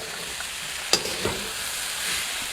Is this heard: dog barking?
no